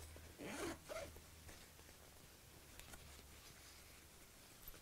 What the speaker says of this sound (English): I can pull the zip around